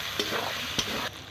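Chicken fries in a pan with ginger-garlic paste, a close steady sizzle broken by two brief scraping stirs, with no voices.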